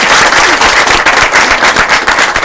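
Studio audience at a television talk show breaking into loud, close applause, a dense crackling wash of many hands clapping that continues without a break.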